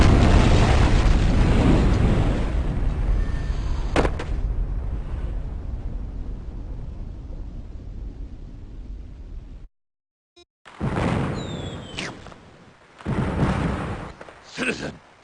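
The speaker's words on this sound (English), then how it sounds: "Those crates are full of firecrackers!" Crates of firecrackers explode in the DOS video game Normality: a long, loud roaring blast that fades, a sharp crack within it, then silence, followed by further bursts and popping crackles.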